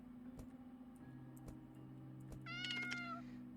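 A cat meows once, close and clear, in the video game Subway Exorcist, against a steady hum and sparse ticking clock-like clicks; no talking.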